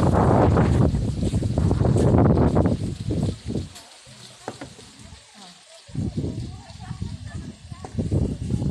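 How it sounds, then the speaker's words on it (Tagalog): Strong wind buffets the microphone in loud rumbling gusts, easing briefly midway, while a person talks over it. "Diba yung hangin?"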